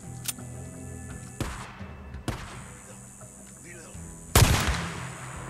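Gunshots in the video game Days Gone: a few sharp, isolated shots spaced a second or so apart over quiet ambience, ending with a louder, heavier blast.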